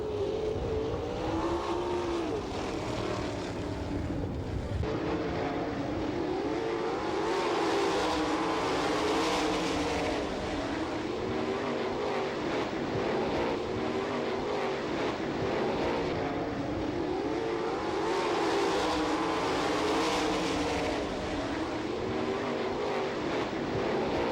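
410 sprint cars race around the dirt oval at Attica, Ohio, a continuous loud roar of engines with swelling waves as the bunched field sweeps past, droning steadily without pause.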